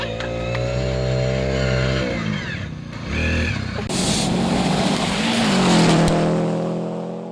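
Rally cars race through a stage of the Experts Cup Rally in the coal mining town of Collie, engines revving hard close by, dropping off as gears change, then screaming up again with tyre noise and gravel spray.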